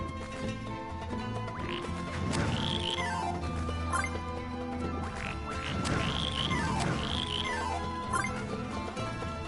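Frog enemies in the game Wonder Boy: The Dragon's Trap make repeated croaking, quacking sound effects in a regular rhythm over looping background music.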